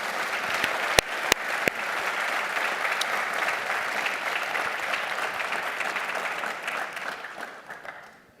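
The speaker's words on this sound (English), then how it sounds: "Let's give one more round of applause for honorees." A crowd applauds honorees at an event, steady dense clapping from many hands with a few sharper claps near the start, fading slightly at the end.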